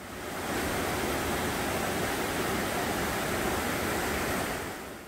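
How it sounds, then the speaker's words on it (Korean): Loud, constant roar of rushing water at Yongso, the largest and deepest pool in the Yumyeong Mountain valley, a broad unbroken wash of white noise that fades in and out at the edges with no voices. "멀리서 아주 큰 물소리가 들리는데요."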